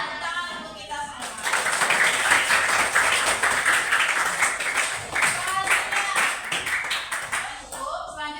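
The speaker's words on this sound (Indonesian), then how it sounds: "Tepuk tangan untuk kita semua." A school class applauds together, bursts of clapping starting after about a second and running for several seconds, dense and near, with voices mixed in and a brief lull toward the end.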